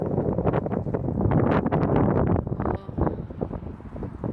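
Strong wind buffets the microphone in rumbling gusts outdoors amid melting snow, loud and close throughout with no speech.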